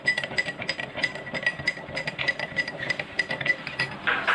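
A spoon stirs salt into water in a glass for a school chemistry experiment, a rapid run of light, bright clinks against the glass, close and steady for several seconds.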